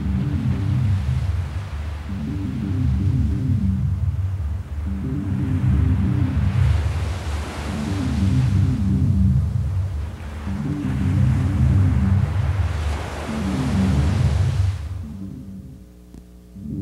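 Heavy ocean waves surge during a rare 100-year high tide brought by an unusual Earth, Moon and Sun alignment, rolling in as a steady, deep rumble with broad swells cresting about every three seconds before easing off at the end.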